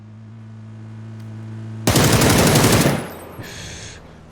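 A Beryl assault rifle fires a rapid, loud automatic burst of about a second in PUBG, following a low tonal engine hum, then the shots cut off, leaving a brief trailing echo and a short metallic rattle.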